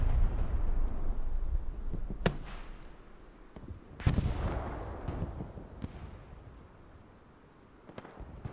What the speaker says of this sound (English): Excal uses the rocket to clear the building right there.